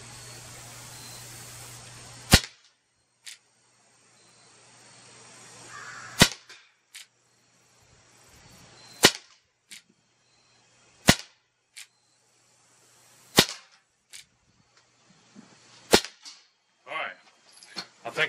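A Colt Peacemaker SAA BB air revolver fires at plates, with sharp, loud, snappy pops spaced a few seconds apart, about eight shots, plus softer clicks and light handling noises between them.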